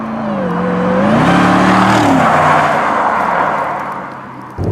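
Mercedes SLR supercar, about 12 years old, accelerates hard with a loud climbing engine roar through gear changes, heard from inside the car, fading slightly at the end.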